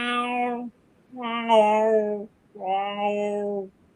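A cat gives three drawn-out meows in a row, loud and close, each about a second long with short silent gaps between.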